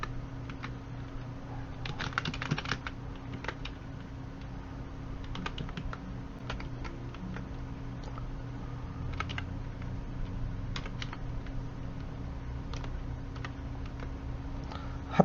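Keystrokes on a computer keyboard while entering data into an Excel spreadsheet, a steady run of close, light clicks with brief pauses, over a low constant hum and no talking.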